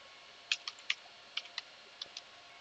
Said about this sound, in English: Here we have to type Vidcutter.